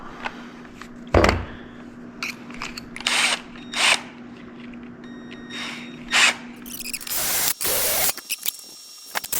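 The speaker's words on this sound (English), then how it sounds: "that's where we drill our holes." A power drill whirs in several short bursts, close up, drilling holes in a 1980 Ford F-250, with clicks and handling noises between runs and a hissing spray near the end.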